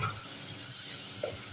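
Spices stirred into tomatoes in a cooking pot for Okhai Memon daal chawal, a soft, steady sizzle and hiss with faint stirring scrapes, quiet and close, without talk.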